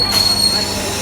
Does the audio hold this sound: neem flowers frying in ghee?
no